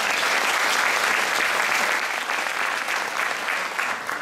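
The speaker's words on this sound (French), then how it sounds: "vous autres aussi, vous méritez une belle main d'applaudissement" Audience in a full hall applauds at a school jazz band's farewell concert, sustained loud clapping that holds steady for several seconds and then eases slightly near the end.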